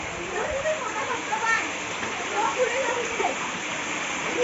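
Water flows steadily at a temple as a constant rushing wash, with a voice talking over it throughout.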